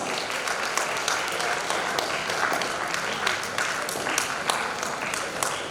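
Steady, full applause rolls through the crowd at a college technology symposium as prize winners are honoured, many hands clapping at an even, sustained level.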